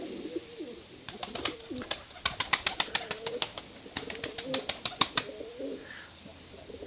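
Breeding pigeons in a cellar coo in soft, repeated bursts, a close chorus of throaty calls rising and falling in clusters with no talk.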